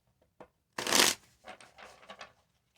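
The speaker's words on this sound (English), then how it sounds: "Let me shuffle." Tarot cards shuffled by hand in one loud riffling burst, followed by several softer, quicker shuffles and light card taps, close and with no talking.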